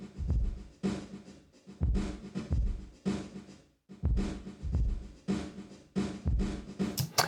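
A sampled drum groove of punchy kicks and snare hits bathed in a convolution room reverb, each hit trailing off into a short spacious decay, steady and moderately loud.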